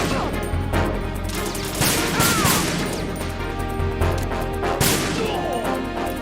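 Video game gunfire in Metal Gear Solid (Master Collection): repeated shots and bursts crackle through a busy stretch, with louder volleys near two, four and five seconds over a steady game soundscape.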